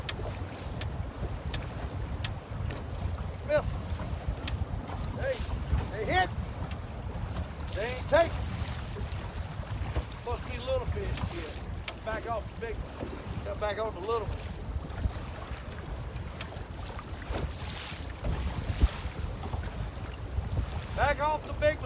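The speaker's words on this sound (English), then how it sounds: "White caps and the wind is blowing." Strong wind blowing across whitecapped water while fishing for white perch from a boat, a steady loud rushing and buffeting with mic wind noise and occasional small knocks, continuous throughout with no talk.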